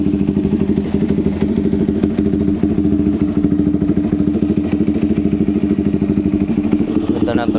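A Yamaha R15M WGP Edition motorcycle engine, with a newly changed air filter, runs at a steady, rapid idle with a chugging, clattery beat, close and loud throughout.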